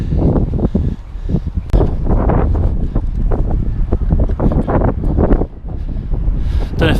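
Strong wind buffeting an outdoor microphone on a walk along Hadrian's Wall, a loud continuous low rumble with gusty bursts and crackling throughout, no clear voices.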